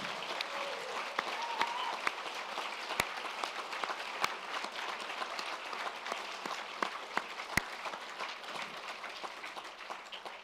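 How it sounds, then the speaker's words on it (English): A graduation audience claps in sustained, lively applause, dense and fairly distant, with sharper individual claps standing out now and then. "give yourselves a big round of applause"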